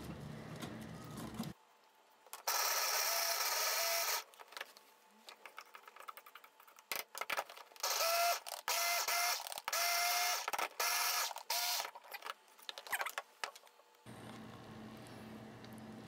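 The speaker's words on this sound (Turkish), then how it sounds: "bir sonraki adım sebze doğrayıcınıza, sebze kesicinize ya da bizim Braun markasından bir set" A Braun electric vegetable chopper whirs in repeated loud bursts as it chops Chinese cabbage, starting and stopping with short pauses between pulses, with a machine hum before and after.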